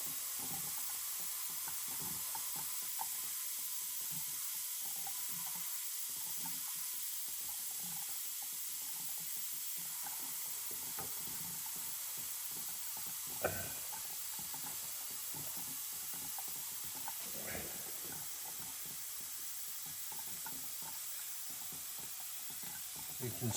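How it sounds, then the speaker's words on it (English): Steam hisses steadily from a pressure canner while rabbit is being canned, a constant close airy rush with a couple of brief louder spurts and no talking. "You can see the steam coming from my fingers"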